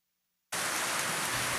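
Heavy rain pours down in Babahoyo, Ecuador, cutting in abruptly after a moment of silence as a dense, loud, continuous hiss.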